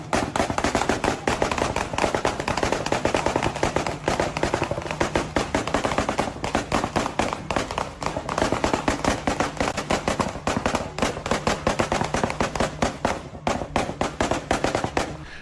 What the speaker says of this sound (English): Those sounds weren't firecrackers, but rather gunshots.